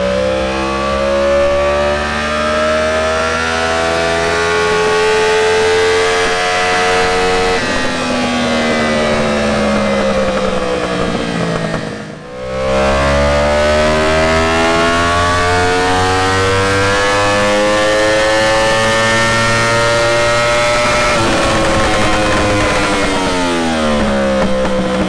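Rebuilt Yamaha R1 racing motorcycle engine running on a dyno, revving loudly with rising and falling tones, a brief dip in the middle before climbing again, steady and close throughout.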